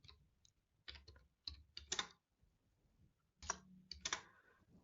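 Keys clatter on a computer keyboard as a line of Python code is entered, coming in short bursts of close, crisp clicks separated by brief pauses, with no voice over them.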